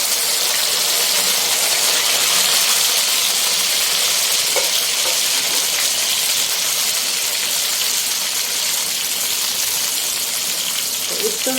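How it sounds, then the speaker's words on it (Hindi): Sliced okra (bhindi) frying in hot oil for masala bhindi, a loud, steady, dense sizzle that holds evenly throughout with no talking over it. "तो अब हमने सबसे पहले भिंडी को फ्राई करना है"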